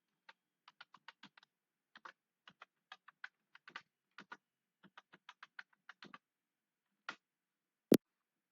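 Keys tapped on a computer keyboard entering an ID and password, quick clusters of crisp clicks with short gaps in a quiet room, ending with a single louder sharp keystroke.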